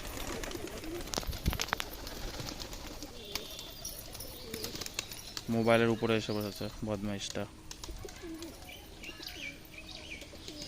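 Lotan pigeons coo in a short, throaty rolling burst close by, a male among them, with wing flutters and chirps around it and a person talking before and after.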